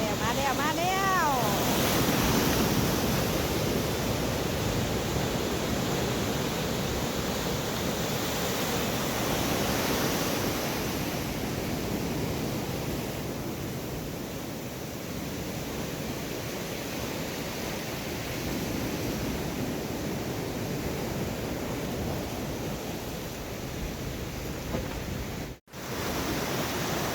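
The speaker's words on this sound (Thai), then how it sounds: "เมื่อนี้พายุเขาขึ้นลมแรง" Strong storm wind blows outdoors in Sochi, a loud continuous roar with gusting rumble and microphone buffeting that eases slightly midway, then drops in a brief cut near the end.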